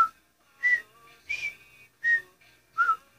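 A tune whistled in four short, bright phrases separated by brief pauses, close and clear with no other sounds.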